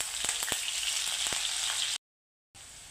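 Garlic frying until golden with cumin and curry leaves, a close steady hiss dotted with sharp pops and crackles, cut by a brief silence before the sizzle returns.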